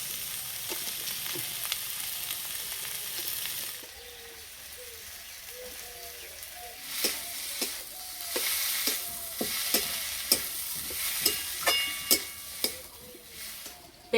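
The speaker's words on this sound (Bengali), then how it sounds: "এখানে সিদ্ধ আলু নিয়েছে, আলুগুলো ভেঙে দিয়ে দেবো।" Boiled potatoes are broken up and stirred into a frying fish and spice mixture, a quiet sizzle at first, then a series of sharp spatula scrapes and taps against the pan growing denser toward the end.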